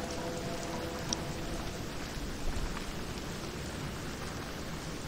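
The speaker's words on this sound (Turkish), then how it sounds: "yağmur efektleri, bu yerden seken su damlaları falan güzel" Rain in the stealth video game Thief, with drops splashing off the ground, makes a steady, dense hiss with faint scattered pattering, and no one speaks.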